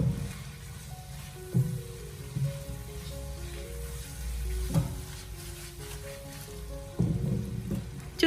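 Prawns stir-fried in scallion oil for braised prawns, a steady sizzle and crackle under scraping spatula strokes, with a few louder tossing bursts and no talk.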